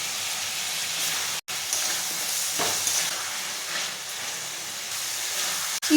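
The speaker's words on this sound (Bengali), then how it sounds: "ছোট ছোট করে কাটা চিকেনটা দিয়ে দেব। কষাতে থাকবো।" Chopped chicken sizzling steadily in a pan of cooked-down spices, with continuous frying hiss and occasional stirring scrapes, close and fairly loud throughout.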